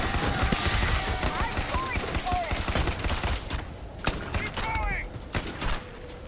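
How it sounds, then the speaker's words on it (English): Gunfire in the Starfield video game comes as dense, rapid bursts and single cracks over a loud, busy backdrop, with chirping tones mixed in and a short pause before more shots. "What are you shooting now?"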